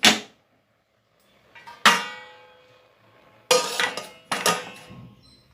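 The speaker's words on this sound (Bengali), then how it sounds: "এখন আমি গ্যাসটাকে অফ করে দেব এবং 5 মিনিটের জন্য ঢাকা দিয়ে রেখে দেব" A metal lid is set onto a pot of cooking jeera rice, giving several sharp clanks and ringing clatters in close succession with short quiet gaps between them. No one speaks.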